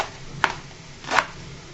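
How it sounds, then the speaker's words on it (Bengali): Two short, sharp knife strikes on a cutting board, well spaced and close, as jute leaves (pat shak) are finely chopped for a home-cooked dish, with quiet room tone between the cuts. "তাই আমি সুন্দর করে কুচি কুচি করে কেটে নিচ্ছি।"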